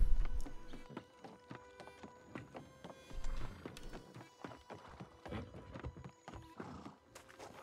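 A horse in the video game New World snorts and whinnies amid a busy patter of clip-clop hoof thuds and clicks, close and moderately loud with no talking over it.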